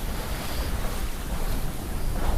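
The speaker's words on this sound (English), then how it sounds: "We're sailing up the Francis Drake Channel in the Virgin Islands." A sailboat moving through ocean waves in January on the Francis Drake Channel in the Virgin Islands: dense rushing wash of water and surf with heavy wind buffeting the microphone, loud and continuous, with no voices.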